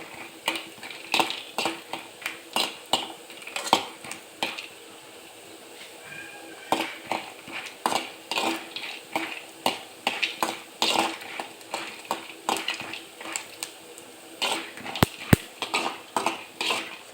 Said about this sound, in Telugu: సో ఇట్లా మనము దోరగా వేయించుకోవాలి ఆయిల్